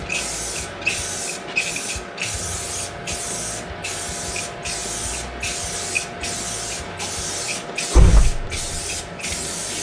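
Spray paint applied in a thick coat to Suzuki TS250 motorcycle parts, heard as a loud, steady series of hissing bursts in a regular rhythm, with a brief knock near the end.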